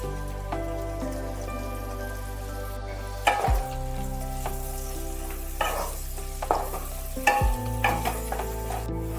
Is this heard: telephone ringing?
no